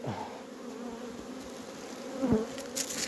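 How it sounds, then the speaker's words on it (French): Many honeybees buzz around an open beehive during a queen-grafting session. There is a steady close hum of wings, with individual bees droning louder as they pass near, and no talk. "beaucoup d'abeilles là"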